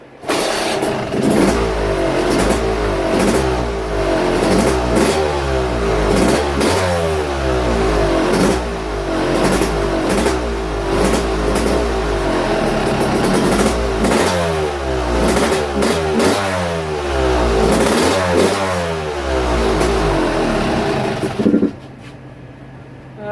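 A Yamaha YZ250 two-stroke dirt bike engine with ported cylinder and re-chambered head revs loudly and continuously, rising and falling in repeated throttle blips, close up, then cuts off near the end.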